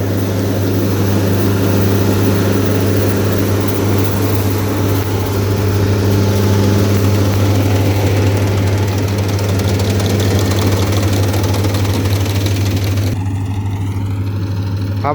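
An old small Kubota SRM32 rice combine harvester engine drones loud and steady, a constant low mechanical rumble with rattling overtones throughout, close by.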